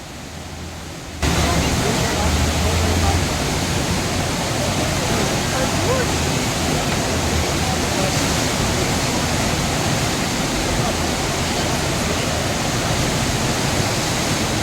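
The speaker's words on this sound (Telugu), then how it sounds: "ఆ వాటర్ సౌండ్ వింటూ చూస్తేనే చాలా బాగుంటుందని చెప్పేసి అది అలాగే ఉంచుతున్నానండి" Water rushing loudly and steadily at a surfing spot in Germany, a dense broadband roar that swells in after a quiet first second and continues without a break.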